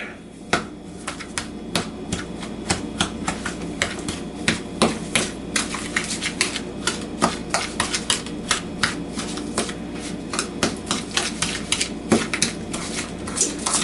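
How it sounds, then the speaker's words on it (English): Ingredients for an eopie roast being mixed in a bowl, a close, steady run of sharp clicking and clattering knocks repeating rapidly for several seconds, with no one talking. "Then we'll give that all a quick mix up"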